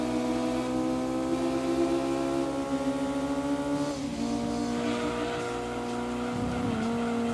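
Honda S2000 engine in the Gran Turismo 2 racing game, a steady high-pitched drone that holds, dips around the middle as if shifting, then climbs again, with no talk.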